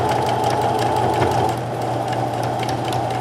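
A sewing machine stitching along the fold of a sweatshirt hood, a loud, close, continuous motor whir with fast needle rhythm that eases slightly partway through.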